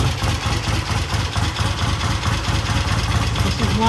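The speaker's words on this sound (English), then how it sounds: "Started at an idle. No throttle, just idle. Started. It's now sitting there idling." A 1968 Triumph T100 or 1974 Norton vintage motorcycle engine idles steadily with no throttle, a loud, even low-pitched thrum with a regular pulsing beat close by, first start in years on fresh gas and battery.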